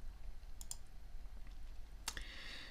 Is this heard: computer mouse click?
yes